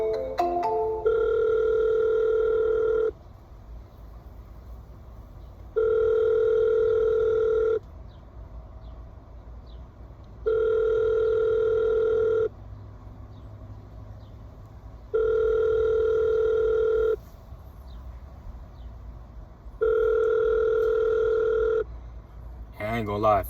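Outgoing phone call ringback tone, steady repeating rings of about two seconds each separated by pauses of similar length, five cycles over a low background hum, alone with no talk.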